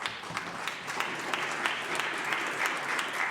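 Members of a provincial legislature in British Columbia clap steadily during question period, a dense even patter of many hands filling the chamber without a break.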